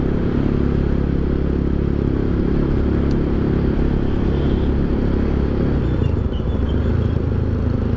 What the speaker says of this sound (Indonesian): Coba tarik-tarik gas ya.